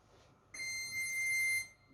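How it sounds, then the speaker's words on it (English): A PulseGuard Mk-II heart rate monitor sounds its alarm through a Bluetooth speaker: a steady, bright electronic tone starts abruptly, holds for about a second, then cuts off, clear over a quiet room. "it will alarm via the Bluetooth speaker and it will not alarm via the tablet"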